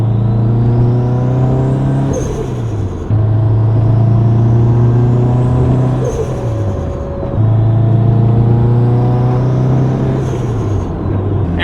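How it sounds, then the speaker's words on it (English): A tuned 2007 Subaru WRX STi engine revs hard and close in repeated pulls. Its pitch climbs and drops with each gear, and the HKS blow-off valve lets out a sharp hiss at every shift, about three times. "the HKS blow off valve is just like amazing. So you guys will get to hear all that cool stuff"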